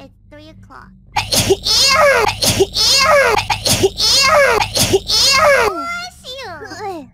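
A voice lets out a run of loud sneezes, four bursts in quick succession, each close and sharp, followed by high chirpy vocal sounds.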